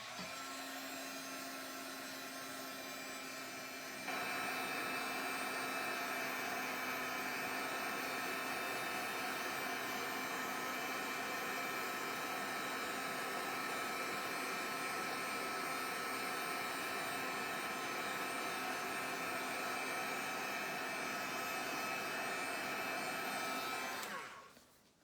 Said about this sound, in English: Okay, so I'm just going to dry this.